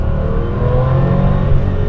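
Air-cooled 3.6-liter turbocharged flat-six in a 1998 Porsche 911 Turbo S (993) held around 4,000 RPM, a steady, loud, close engine drone with a smooth, even tone throughout.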